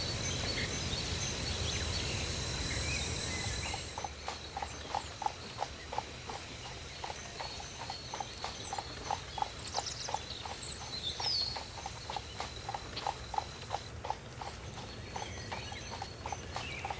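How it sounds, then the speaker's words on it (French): Farm horses carrying riders walk along outdoors at Honvaux, hooves clip-clopping in a steady, even rhythm that runs on for many seconds over a constant outdoor background with faint birds. "La présence des chevaux de la ferme de Honvaux, et de leurs cavaliers, contribue à la beauté de ce site."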